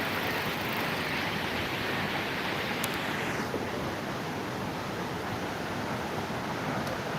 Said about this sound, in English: see the main thing, which is the waterfall